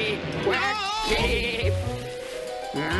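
A puppet voice imitates a goat with a loud, wavering bleat, drawn out and then repeated in short cries from close up.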